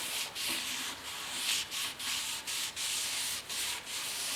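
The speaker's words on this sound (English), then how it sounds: "give it a wipe down" Lacquer thinner wiped by hand over a 1972 Ford air cleaner, a steady rubbing swish in repeated close strokes broken by short pauses, no voices.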